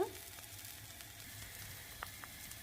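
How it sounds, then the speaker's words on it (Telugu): Faint, steady sizzle of a dosa sprinkled with cheese frying in a pan, with a few soft crackles and pops over a low background hum. "చీజ్ స్ప్రింకిల్ చేసుకొని ఒక 1 minute ఫ్రై అవ్వాలి"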